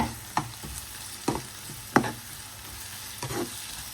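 Curry leaves and green chilies sautéing in a pan for poori masala, a soft low sizzle broken by four sharp stirring knocks of a utensil against the pan, spaced a second or so apart.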